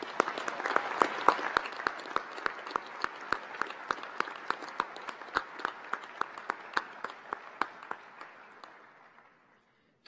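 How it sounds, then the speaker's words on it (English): A large audience at a university winter commencement breaks into sustained applause, with dense clapping and some louder individual claps that gradually fade out near the end. "let's recognize them with a round of applause."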